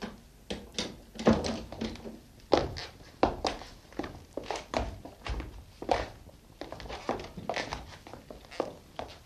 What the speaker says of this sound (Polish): Zamknij drzwi, Watsonie.